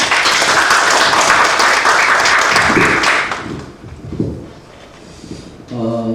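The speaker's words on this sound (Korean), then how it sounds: "모두 박수로 환영해 주시죠." Audience applause at the close of an academic conference session, dense and steady clapping for about three seconds before thinning out into scattered claps and room noise.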